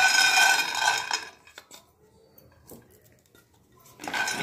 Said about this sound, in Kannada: ಇದಕ್ಕೆ ನಾನು ಕಡಲೆ ಬೀಜ ಹಾಕ್ಕೊಳ್ತಾ ಇದ್ದೀನಿ.